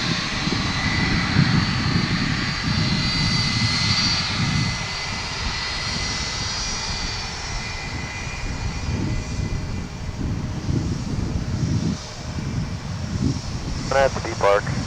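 Narrow-body jet airliner at DFW airport, its engines roaring loud and steady throughout with a broad rumble and whine, with a person talking over it.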